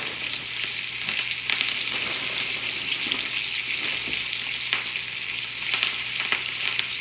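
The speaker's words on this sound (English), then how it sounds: "now that my kale has started to shrink down, I'm going to add in some more." Kale sautéing in a hot pan, a dense continuous sizzle and crackle with occasional louder pops and the soft scrape of stirring, close and unbroken.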